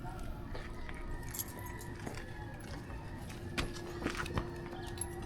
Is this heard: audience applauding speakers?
no